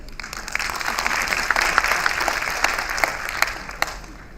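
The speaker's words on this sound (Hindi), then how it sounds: "टुकड़ों में तालियां नहीं बजनी चाहिए।" An audience claps at a Lokmanthan 2022 cultural event, a dense burst of applause with sharp individual claps standing out, continuing steadily without talk.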